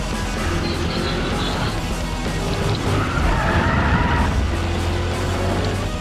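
A car skids in the Need for Speed World racing game, a loud continuous tire screech over a roaring engine lasting several seconds, with excited voices faintly mixed in.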